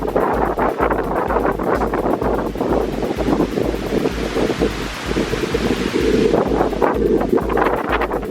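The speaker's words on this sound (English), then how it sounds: "So on this beautiful windy day, Adam Elturk is fishing." Strong wind buffets the microphone outdoors while fishing, in a constant low rumble, with a rushing roar like surf behind it.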